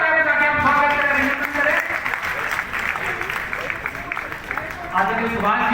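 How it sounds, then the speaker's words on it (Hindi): A crowd at a BJP Rajasthan Lok Sabha cluster meeting claps loudly to welcome the chief minister, sustained applause mixed with cheering voices and a tonal announcement underneath. "जोरदार तालियों से हम स्वागत करें"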